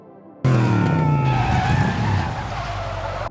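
A car skids and drifts across rough construction-site ground among trucks, bursting in abruptly with a loud, sustained roar of engine and scrubbing tires that fades slightly toward the end, with no talking.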